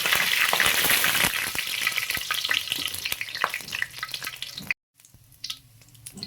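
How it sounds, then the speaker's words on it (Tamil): Fennel seeds, dried red chilies and bay leaves frying in hot coconut oil for a rabbit pepper roast, a dense steady sizzle with crackling pops that cuts out abruptly and then returns softer, close with no voices. "தாளிப்புக்கு வந்து கொஞ்சமாக சோம்பு சேர்த்துக்கலாம் அடுத்து பார்த்தீங்கன்னா வரமிளகாயும் பிரியாணி இலையும் கொஞ்சம் சேர்த்துக்கலாம்"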